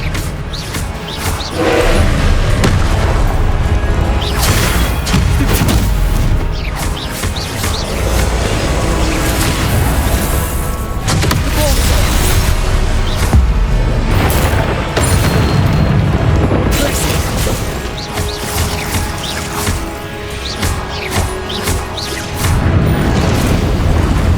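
Blasting-spell explosions from the Hogwarts Legacy video game boom repeatedly in a dense, loud, continuous battle mix, heavy low-end blasts recurring every few seconds with crashing debris, under shouted spell-casting voices.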